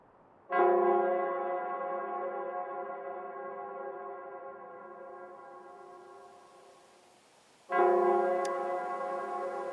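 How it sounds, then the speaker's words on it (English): The Nell Square bell rings in the video game Wuthering Waves: two deep, resonant tolls, the first sustaining and slowly fading for several seconds before a second strike, heard alone and fairly close. "It's the Nell Squares bell."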